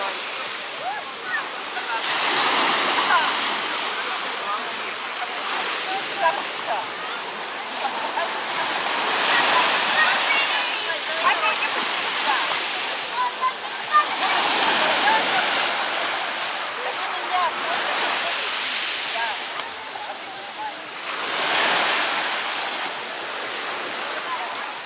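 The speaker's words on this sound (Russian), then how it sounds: "Как тебе волны? Как море?" Mediterranean waves at Cleopatra Beach, Alanya, Turkey roll in and break in a slow, repeating rhythm, each surge swelling into a broad rushing crash before fading, with occasional voices nearby.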